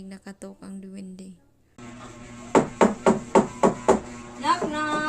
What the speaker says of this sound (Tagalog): Habang masarap ang kanyang pagkakain ay may narinig na katok ang diwende.